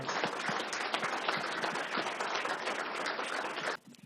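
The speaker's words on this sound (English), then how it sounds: "So would you give these gentlemen and Patsy another round of applause?" An audience at an outdoor street-naming ceremony bursts into sustained applause, dense clapping that holds steady for nearly four seconds before cutting off abruptly.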